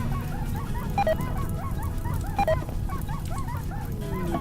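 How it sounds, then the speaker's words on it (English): Excitable yapping barks from a dog in the video game RimWorld, a rapid repeated series of short, high barks over a low steady background hum, moderately faint. "What's that excitable barking noise?"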